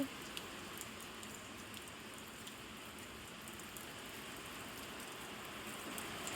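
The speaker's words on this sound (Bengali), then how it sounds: "দেখো আরো জোরে বৃষ্টি চলে এসছে।" Heavy rain pours steadily and evenly, a continuous roar of drops with occasional sharper taps, no voices.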